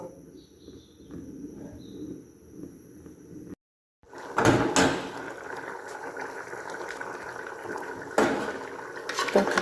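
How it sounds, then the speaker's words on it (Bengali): Drinking water comes to a boil in a kitchen pot before rice goes in, a steady close bubbling hiss with a few clatters of the pot; a brief cut breaks it midway. "পানীয় জল ফুটে আসছে"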